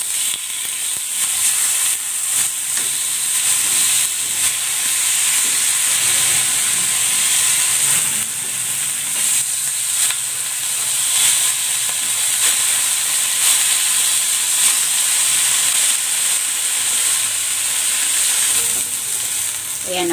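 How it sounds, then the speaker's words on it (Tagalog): Chicken sizzling on a grill for grilled chicken tortilla cones, a steady close hissing and crackling frying sound that holds at even loudness throughout, with no talk. "Next, ipan-grill ko muna itong chicken."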